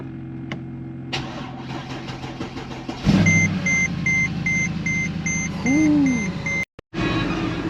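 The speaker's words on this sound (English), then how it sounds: "Cold start for the squad." A Mercedes C55 AMG with the M113 V8 cold-starts after a whine of cranking, catching with a loud flare and settling into a high, steady idle, intermittent electronic chimes repeating over it, a brief dropout near the end.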